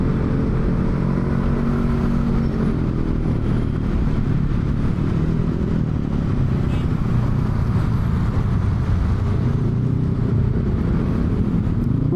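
A Honda Vario motorcycle ridden on an evening outing, its engine droning steadily and loudly throughout, with wind rumble and road noise filling the low end.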